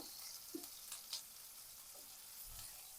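Fish sizzles in a frying pan alongside potatoes, a soft, steady crackling hiss heard close but quiet, with a few light scraping and stirring clicks as the pieces are turned.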